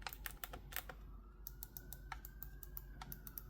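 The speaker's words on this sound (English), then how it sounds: "Oh, that's just some crisp clickiness going on right there." Crisp, rapid clicks from the face buttons of a Scuf Envision Pro controller with Xbox-style X, Y, A, B buttons, pressed in quick irregular bursts, close and clear with no talking.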